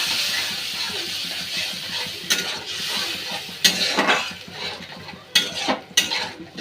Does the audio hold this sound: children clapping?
no